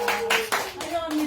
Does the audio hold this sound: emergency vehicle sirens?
no